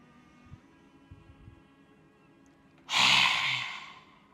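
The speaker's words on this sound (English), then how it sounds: "Kali breath is when you inhale through the nose, you exhale out of the mouth, sticking out your tongue, and it can be with a sound" Forceful breath exhaled out of the mouth with the tongue out after a quiet nasal inhale, a single loud breathy whoosh that fades away, no talking.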